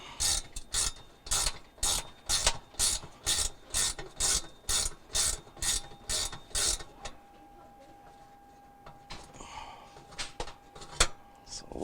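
Bolts are ratcheted out during a Maytag stove igniter repair: a quick, steady run of about a dozen rhythmic ratchet-clicking strokes, close and moderately quiet, followed by a few scattered clicks and light handling noises.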